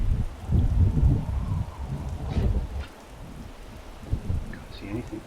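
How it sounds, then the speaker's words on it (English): Steady storm rain patters down in a broad, continuous wash during a Coast to Coast hike, with low rumbling gusts underneath and no talking. "Still raining."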